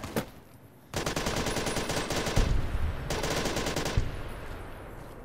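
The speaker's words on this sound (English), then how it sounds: "Stop shooting me, I'm friendly." Rapid automatic gunfire from Fallout: New Vegas, a dense burst of shots running for several seconds, pausing briefly and then resuming, loud and close with no talking over it.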